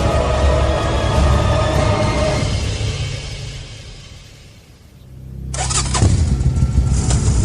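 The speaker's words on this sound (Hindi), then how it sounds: "प्रखर ने तुरंत ही गियर लगाया और वहां से तुरंत निकला।" A vehicle engine starts and runs loudly, fades to a lower murmur, then surges again as it pulls away, close up with no voices.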